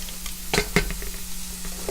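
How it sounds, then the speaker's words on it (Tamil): Sprouts and chillies sautéing in a pan for kootu: a steady close sizzle, with a couple of sharp scraping stirs near the start and lighter spoon taps after. "எல்லாம் போட்டு வதக்கணும்."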